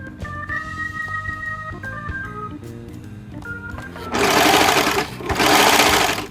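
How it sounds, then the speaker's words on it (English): A sewing machine stitches a baby Star Trek costume in two close, loud whirring bursts after some quieter handling clatter and soft background tones. "sew the front and back together up here, and then sew the sleeves across"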